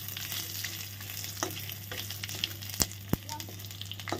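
Whole cumin, dried chillies and bay leaf fry in hot oil in a pan, a soft, continuous close sizzle with faint crackles and a couple of sharp clicks from a utensil.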